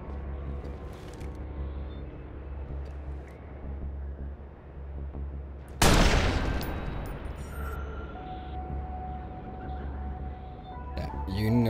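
A single sharp sniper rifle shot cracks loudly near six seconds in Watch Dogs, rising over a steady low engine-like drone and fading with a ringing tail.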